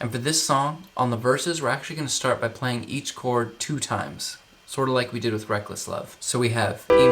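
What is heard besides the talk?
No everyday noise stands out behind the speech.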